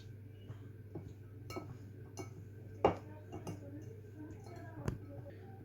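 Golden caster sugar being stirred into a bowl for apple crumble, with a spoon giving light, irregular clinks and ticks against the bowl over a steady low background hum.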